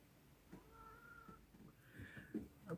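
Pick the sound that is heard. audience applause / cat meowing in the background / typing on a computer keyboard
cat meowing in the background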